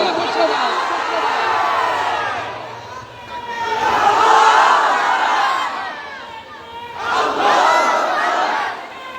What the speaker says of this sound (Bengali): কারা কারা তাকবীর ধ্বনি দিয়ে আল্লাহ ঘোষণা।